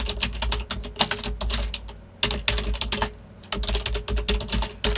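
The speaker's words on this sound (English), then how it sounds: "I cannot type." Rapid clattering keystrokes on a computer keyboard while filling in cards on a project board, close and loud in bursts with two brief pauses, no talking.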